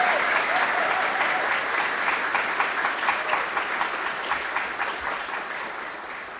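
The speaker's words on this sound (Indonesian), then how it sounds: "Dikasih tepuk tangan ada getarannya nih." A crowd applauds steadily and loudly, the clapping slowly fading toward the end.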